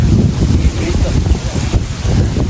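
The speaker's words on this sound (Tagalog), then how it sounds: "Napakalakas po ng hangin." Strong wind buffets the microphone in a steady, loud roar beside a milkfish pond, with low rumbling gusts throughout.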